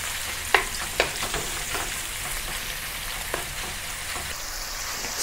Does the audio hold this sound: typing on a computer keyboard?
no